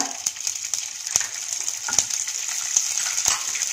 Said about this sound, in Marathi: यामध्ये 2 टीस्पून तेल घालूया. यामध्ये भाज्या घालूया